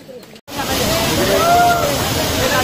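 Monsoon rainwater pours as a waterfall down the stone steps of Raigad fort, a steady, loud, close rush of churning water that starts abruptly after a brief quiet moment and carries on without a break.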